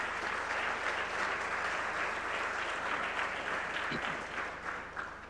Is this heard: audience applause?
yes